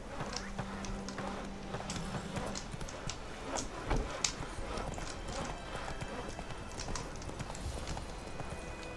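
Horse hooves clip-clop in a steady, brisk rhythm throughout in The Witcher 3: Wild Hunt, fairly close, over a faint background hum.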